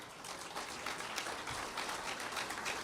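Audience applause welcoming poet Dr. Nadeem Shaad onto the stage at a mushaira, a dense, steady crackle of many clapping hands filling the hall without pause.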